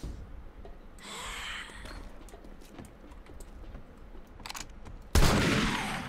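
Gunfire in the 7 Days To Die Alpha 21 survival game, a few sharp shots with a loud, close final blast that rings out, set among faint game clatter and footsteps.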